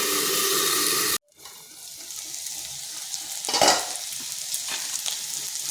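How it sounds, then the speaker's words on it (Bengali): Taro frying in a covered pan at home: after a brief loud burst and a cut, a steady hissing sizzle builds, with one swell of crackling partway through, close and moderately loud, no talking. "একটু কচুটা ভাজা ভাজা করে নেব।"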